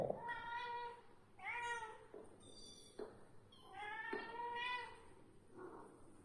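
Several household cats squabble, trading drawn-out harmonic meows and yowls in close succession, loud and near, with brief gaps between the cries.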